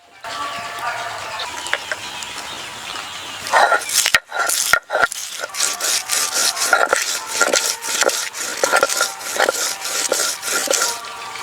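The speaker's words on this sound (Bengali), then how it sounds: "এবার বেটে নেব কাঁচা লঙ্কা।" Green chillies are crushed and rubbed on a flat stone grinding slab, a rough, rhythmic scraping and rasping that starts soft and grows into steady, close back-and-forth strokes with a few sharp knocks.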